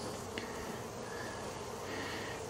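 Honey bees hum steadily throughout while a package is installed into a horizontal hive, a close, continuous buzzing drone with no voices over it.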